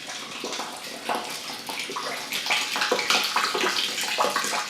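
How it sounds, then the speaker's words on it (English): Water runs steadily into a wash basin, a continuous splashing flow with shifting surges, fairly close and alone with no voices. "Someone is probably using the wash basin, and we collect the water"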